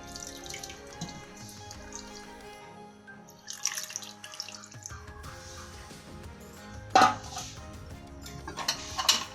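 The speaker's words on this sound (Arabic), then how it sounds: "غادي تزيدي عليها كاس ديال الماء، غادي تخويها في الجناب" Water from a glass poured over leftover chermoula around tuna in a pan, heard as close splashing and dripping pours in a few separate bursts, with quiet gaps between them.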